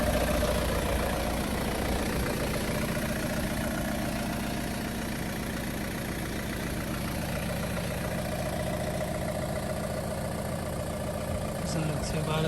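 A diesel Saab 9-3 idles steadily for a dozen seconds with a low, even, slightly knocking rumble, heard from a short distance with faint sounds around it.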